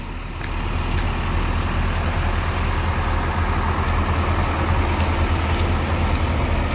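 A Sinar Jaya Jetbus 5 sleeper bus engine runs with a steady, loud, low diesel drone, holding an even rumble throughout with no talk over it.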